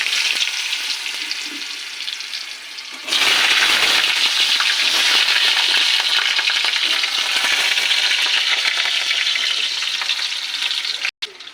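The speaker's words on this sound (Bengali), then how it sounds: "কুমড়োটা হালকা ভেজে নেব।" Pumpkin fries lightly in a pan, giving a dense, continuous sizzle that swells louder after a few seconds and holds steady, heard close with faint stirring and no speech.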